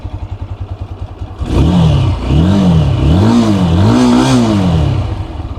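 A Spark SP200R motorcycle engine idles with a quick, even putter, then is revved loudly several times, each rise and fall of pitch close and strong, before it drops back to idle. No talking.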